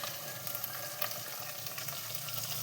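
Coriander paste frying in oil, a dense, continuous sizzle and crackle heard close up, with occasional stir clicks and no talking.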